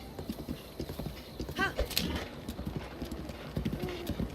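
Horse hooves clip-clop steadily in Zelda: Breath of the Wild, with a short whinny midway, while a person talks over the galloping rhythm.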